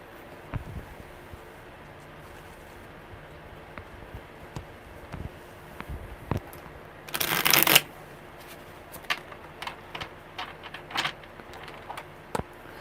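A deck of tarot cards gets one loud, crisp riffle shuffle close up, surrounded by soft taps and handling clicks in a quiet room.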